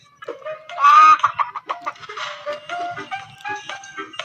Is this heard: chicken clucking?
yes